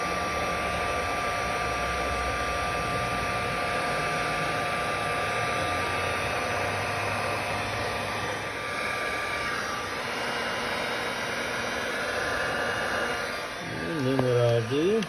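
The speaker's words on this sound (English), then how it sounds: "now we'll just take our heat gun, and there we go" A heat gun blows on heat-shrink tubing over a solder joint during a fuel pump fuse wiring upgrade, making a steady, continuous, close airy roar that holds nearly unchanged throughout.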